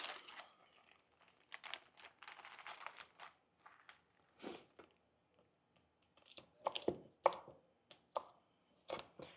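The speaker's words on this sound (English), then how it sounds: "Let's chop our bacon." A knife chops cooked, oven-baked bacon on a cutting board, giving sharp, irregular taps in quick bursts with short pauses between them. The sound is close and fairly quiet, and nobody speaks.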